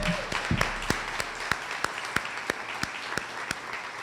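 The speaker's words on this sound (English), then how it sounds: "I think that deserves a round of applause." An audience at a State of the District event applauds, sharp individual claps rising over a steady bed of hand noise that gradually thins and tapers, with a brief voice near the start.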